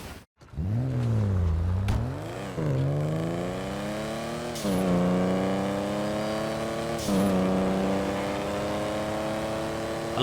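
The Hustler car in GTA Online revs loudly and close up, its engine tone rising through several sustained pulls with short dips between gear changes, steady and unbroken for the whole stretch.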